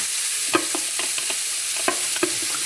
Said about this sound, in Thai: ผัดเลย